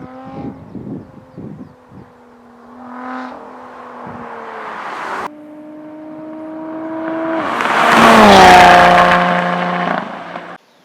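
A Lotus Evora 400 sports car engine with automatic transmission hums and rises in pitch, then climbs to a loud, strained rev before cutting off sharply.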